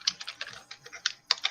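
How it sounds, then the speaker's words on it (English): Rapid keystrokes clatter on a computer keyboard, a quick irregular run of crisp clicks with one short pause, fairly close and with no talking over it. "I hear Tony typing"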